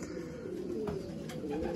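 Soft, low racing pigeon cooing, a continuous throaty murmur that stays fairly faint throughout, with no other sounds over it.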